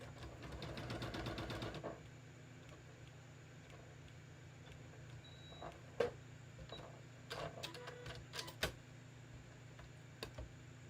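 A sewing machine stitching a tee runs in a fast, close, rhythmic burst for about two seconds, followed by quiet handling clicks and small taps.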